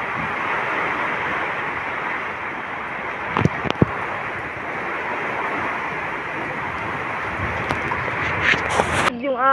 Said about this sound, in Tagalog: Ulan na lang siya, konti ng hangin.